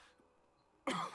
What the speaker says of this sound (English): there's a lot of coughing here.